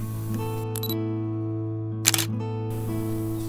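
Mechanical shutter clicks from a camera fitted with a Viltrox 56mm F1.7 lens, shooting roses outdoors with a fast shutter speed: a few sharp, close clicks over a steady electronic hum, with no talking.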